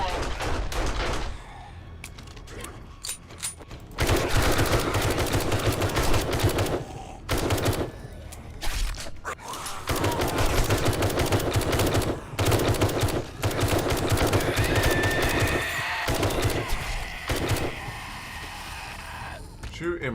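Rapid bursts of gunfire in the survival game 7 Days to Die during a zombie attack on a base, loud and near, with sharp repeated shots and brief pauses, mixed under excited talk.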